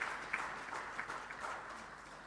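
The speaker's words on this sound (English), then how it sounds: "And I will ask that our shareholder to clap for you." Shareholders at a Nigerian Breweries annual general meeting applaud, a faint, distant spatter of clapping running steadily with a few louder claps.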